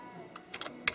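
Brief keystrokes on a Commodore 64 keyboard, a few separate clicks with one sharper tap near the end, close and fairly quiet over faint room hiss.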